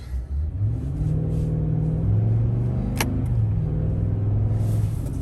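A 2021 Nissan Titan XD truck accelerates from inside the cab, its low engine drone rising and stepping down in pitch as gears change, steady and fairly loud throughout, with one sharp click partway through.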